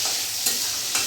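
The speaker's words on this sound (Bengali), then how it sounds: "আমি এবার ভেজে নেবো বেগুনগুলো।" Eggplant pieces fry in a pan with salt and turmeric, giving a close, steady hiss of sizzling oil with two brief swells as the pieces are stirred.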